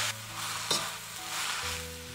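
Pickled cabbage seasoned with salt, star anise powder, Sichuan pepper powder and soy sauces is stir-fried in a wok, a loud hissing sizzle with a sharp spatula scrape partway through, near and continuous with a background hum.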